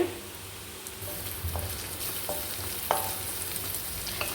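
Garlic and chopped curry leaves frying in hot oil for paneer chilli, a soft continuous sizzle with occasional spoon scrapes and light clinks, close and moderately quiet, no one speaking.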